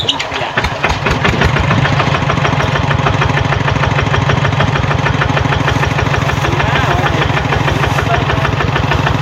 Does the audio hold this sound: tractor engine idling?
yes